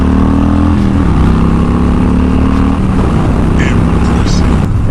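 Harley-Davidson Softail Slim 107 belt-drive motorcycle accelerating, a loud steady engine roar with rising and shifting harmonic tones, close and continuous throughout, with a voice talking over it.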